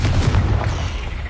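A Confringo explosion spell from the Hogwarts Legacy video game on PS5 detonates with one heavy, loud boom that rumbles and fades over about a second.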